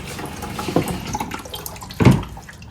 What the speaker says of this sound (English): Water in the bucket.